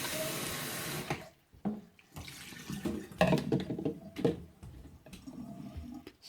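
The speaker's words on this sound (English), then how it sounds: "Pour it nice and slow." Homemade oat milk pours slowly in a thin, uneven stream, splashing and trickling close by with brief pauses between gurgles.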